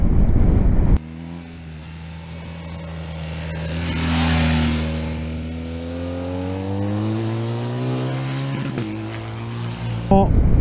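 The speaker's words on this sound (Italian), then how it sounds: "adesso faccio apposta a forzarlo in sesta, sono a 1500 giri e vedete che procedo come un filo di gas" A BMW R 1250 GS HP motorcycle pulls in sixth gear at about 1500 rpm on a road, its low, steady engine note rising gently, heard close under wind noise.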